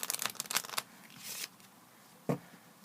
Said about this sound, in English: So then you can do a riffle shuffle